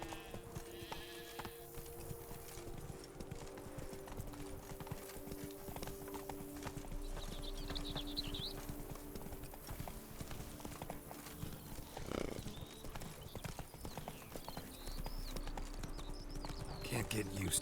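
Roach, Geralt's horse in The Witcher 3: Wild Hunt, galloping with a brisk, steady clip-clop of hooves that runs throughout, mixed with game ambience and characters talking over it.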